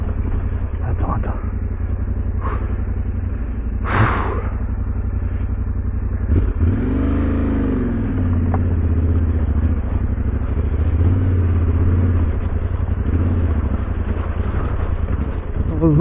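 Adventure motorcycle climbing up a slippery stream bed on a backcountry route, its engine droning steadily and revving under load amid splashing water and clatter, with a rider's voice heard over it.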